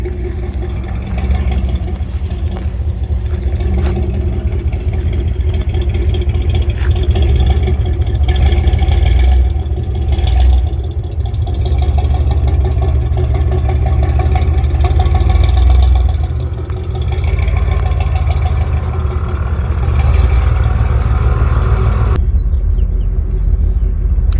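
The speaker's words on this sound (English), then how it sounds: "I'm gonna crank it this way and pull forward." A 1968 Buick LeSabre running and pulling forward on air ride suspension, a loud continuous low engine rumble with slight swells in revs over more than twenty seconds before cutting off.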